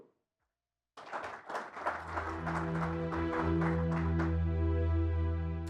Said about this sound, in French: je vais vous demander d'applaudir et d'accueillir Madame Intisar Benzekour